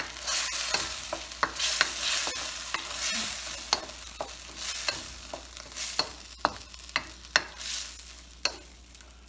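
Chili paste fries in a pan for fried rice, with a close sizzle and crackle punctuated by sharp clicks of a spatula stirring and scraping against the pan, and no talk.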